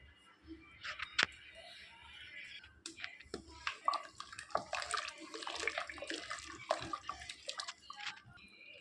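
Rice poured into a pot of boiling water for a kalyana-style mutton biryani in a home kitchen, giving a close, splashy, bubbling water sound with drips and stirring clatter, no voices.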